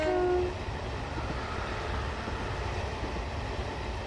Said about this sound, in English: which we'll watch a train go across now.